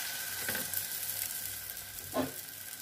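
A semolina rava pizza fries in a pan after being flipped, giving a quiet, steady sizzle with a couple of brief louder spits and scrapes.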